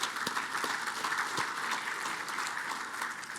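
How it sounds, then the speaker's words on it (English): Faint, steady applause from a conference audience thanking a session sponsor before a payments innovation panel, a soft, distant patter of many hands with a few sharper claps. "Give them a big round of applause"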